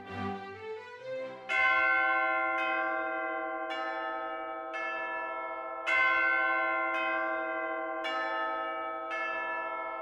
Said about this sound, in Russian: В церкви звонили свадебные колокола.